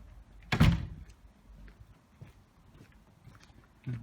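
A gallery door opens and closes with a single loud thunk up close, then a quieter knock near the end, with low room noise between.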